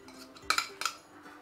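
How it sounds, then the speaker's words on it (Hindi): Mashed potato spooned into a bowl for a bread-based breakfast snack, giving two pairs of close, sharp clinks of a spoon against the dish over a faint background hum. "आलू को हम एक बाउल में डाल लेंगे,"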